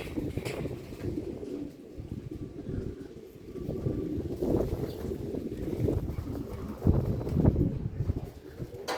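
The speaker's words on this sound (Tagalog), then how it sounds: "lakas ng hangin" Steady wind buffets the microphone with a low, rumbling roar that surges and gusts throughout, with faint bird sounds in the background.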